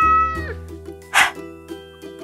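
A cat meows once in a short, bright burst midway through, set against a steady tonal background with faint softer sounds around it.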